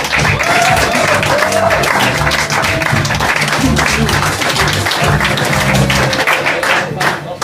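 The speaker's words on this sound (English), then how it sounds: "And so give you a very big applause." A comedy club audience claps and cheers to welcome a comedian to the stage, a dense, loud wash of applause running continuously, with a voice faintly audible beneath the clapping.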